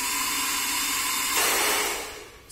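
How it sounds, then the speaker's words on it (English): A Buran Tourmaline 3800 hair dryer runs with a steady, loud airy whoosh that shifts in tone partway through before tapering off toward the end. "We're going to try it out in order for you to understand also the noise that the hair dryer is making."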